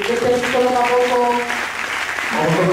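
A church congregation applauds and cheers in a dense, loud wash of clapping, with voices calling out and a sustained tone running underneath.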